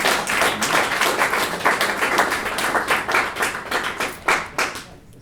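An audience claps for a singer at a summer soul performance, a dense run of hand claps with a few sharper bursts near the end, close and steady, fading out in the last moment.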